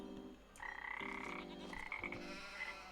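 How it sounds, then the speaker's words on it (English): Frogs croak in a loud overlapping chorus in the farming game Farming Simulator 25, steady rasping calls layered with higher tonal notes, close and dense with no talk. "do we hear frogs as well as sheep?"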